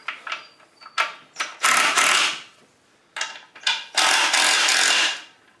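Torque converter being spun by hand during an LS engine swap into a 1973 Chevrolet C10, giving bursts of metallic ratcheting and whirring that come in two main rounds, close up and fairly loud, with short gaps between.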